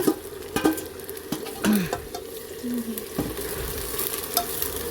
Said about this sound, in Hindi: इसमें मैंने 4 मीडियम साइज़ ऑनियन डाल रही हूँ स्लाइस काट के, और इसको मैं गोल्डन ब्राउन होने दूँगी